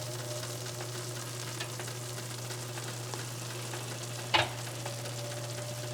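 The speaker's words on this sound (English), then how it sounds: "Listen to the sizzle." Pizza sizzling as it cooks, a steady close bubbling hiss with a low constant hum underneath and one brief clatter near the end, no speech.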